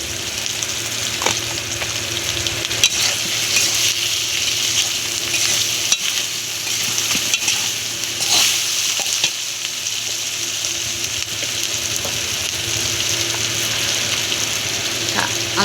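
Hilsa fish head fries in a pan with chili paste, cumin powder and salt while being stirred; a steady close sizzle runs throughout, broken by occasional scraping knocks of the spoon.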